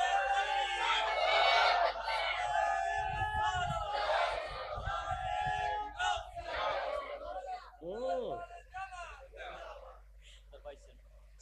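A crowd at a Bengali Islamic waz sermon gathering shouts a takbir response in unison, loud and forceful, rising in several bursts over a steady hum, followed by the preacher's voice.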